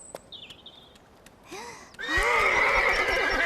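A horse neighs loudly up close, a long shrill whinny that rises and trembles, preceded by a few faint bird chirps and soft clicks.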